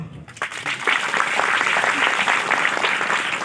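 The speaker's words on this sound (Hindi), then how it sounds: "हम सब अपने आप के लिए तालियां बजाएंगे जोरों से" Loud, dense applause from a crowd at a Christian rally conference in Assam, steady clapping that swells quickly and holds at full strength throughout.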